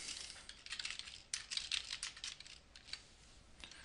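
Close, crisp keystrokes on a computer keyboard as an app name is typed, in irregular bursts with short pauses.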